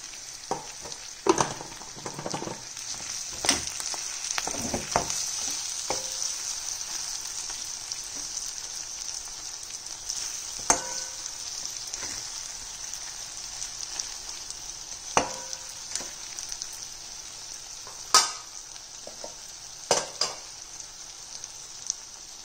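Chicken liver frying in a pan with plenty of chilli, a steady close sizzle broken by occasional sharp spatters and stirring clicks, with no one talking.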